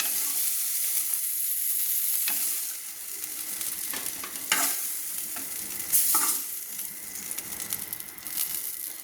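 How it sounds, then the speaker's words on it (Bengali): Frying sizzle continues under scraping spoon strokes as fried pointed gourd pieces are lifted out of the pan, a few louder clinks standing out. "তো আমি একটা চামচের সাহায্যে নামিয়ে নিচ্ছি"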